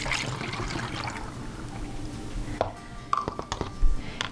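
Distilled water is poured into a cleaner container, a running trickle that fades out, followed by a few light clinks and knocks of the container.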